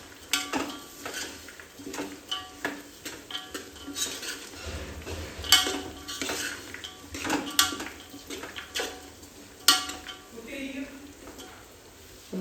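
A utensil stirs poha with finely chopped green chillies in a pan, with continuous scraping and frequent light metallic clinks against the pan, close and steady throughout.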